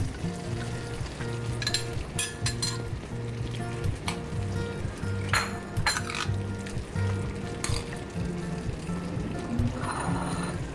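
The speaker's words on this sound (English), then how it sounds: "what I'm going to do now is add in corn flour and a tablespoon of dark sauce to give some coloring" Corn flour and dark sauce go into a pot of beef stew, bringing a steady close sizzle and stirring scrapes with a few faint utensil clinks, no talking.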